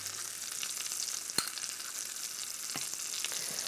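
A sauce of thyme, bay leaf, chopped garlic and tapenade sizzles steadily in a pan while being stirred, with one sharp utensil clink and softer scrapes over the constant frying hiss.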